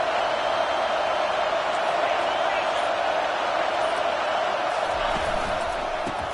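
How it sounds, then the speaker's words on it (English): Football stadium crowd roars in support of the defense in the red zone, a dense, continuous wall of cheering and noise holding steady throughout. "the crowd coming to life here, trying to help this defense down in the red zone"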